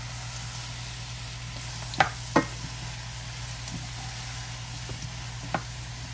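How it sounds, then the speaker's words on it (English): Dirty rice sizzling in a pan on a stovetop burner, a soft steady frying hiss broken by a few sharp clicks and knocks of a utensil against the pan. "I'm going to get this one over here going so we can get our dirty rice going."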